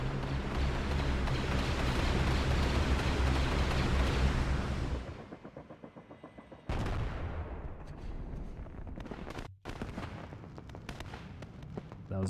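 Heavy gunfire and explosive blasts roar continuously as a droid landing craft is shot down in a Star Wars real-time strategy game, loud and dense, then dropping to scattered, lighter firing and impacts.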